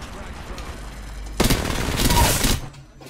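Video game gunfire from Apex Legends: a dense, loud burst of rapid shots that erupts suddenly, holds for about a second, then cuts off, with a voice speaking briefly.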